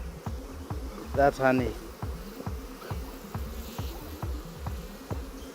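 Honey bees buzz in a dense, continuous drone close by at an open hive as they are wiped from the comb, with a brief louder burst of activity partway through.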